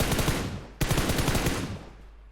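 Dense rapid automatic gunfire in PUBG Mobile rattles loud and continuous, with a brief break and a sharp restart of the burst before it tails off.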